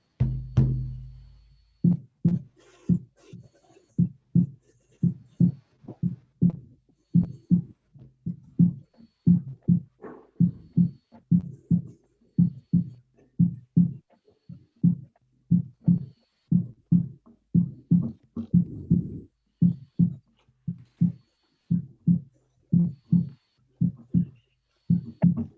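Hand drum beaten in a steady two-stroke heartbeat rhythm for a healing ceremony, low, soft thumps repeating evenly for the whole stretch with no talking.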